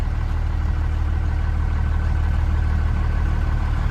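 A 1937 GMC donor truck engine runs at a low, steady rumble while the truck reverses, loud and close with no talk over it.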